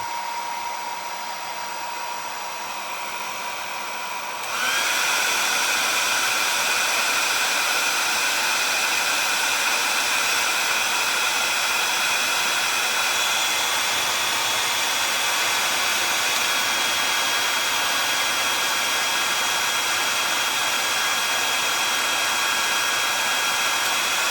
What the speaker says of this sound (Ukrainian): Так, фен.